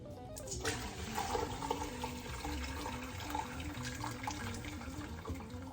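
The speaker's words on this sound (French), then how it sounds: "Je vais maintenant filtrer le bouillon." Broth is poured through a strainer into a pot, giving a continuous gurgling splash of flowing liquid at moderate volume, near and steady, with no speech.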